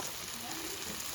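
Tomato pieces softening in a pan with a steady, close, even sizzle and light crackle throughout the short stretch, no voices.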